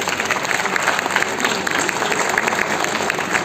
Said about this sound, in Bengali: জোরে একটা হাততালি হোক।